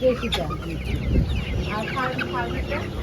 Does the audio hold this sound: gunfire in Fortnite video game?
no